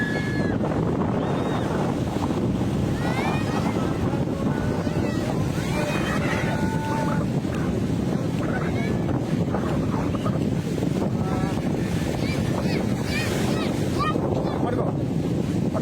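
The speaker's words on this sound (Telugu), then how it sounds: "అదో సముద్రం అండి" Sea waves and wind at a sandy beach roar steadily and close throughout, with heavy wind buffeting the microphone and faint voices and bits of music mixed underneath.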